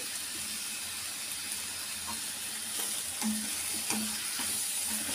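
Mutton sizzles steadily in a hot pan, a loud hissing fry with a few soft clinks of stirring over the bubbling, no voices present.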